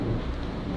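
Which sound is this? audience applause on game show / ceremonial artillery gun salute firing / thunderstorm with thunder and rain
thunderstorm with thunder and rain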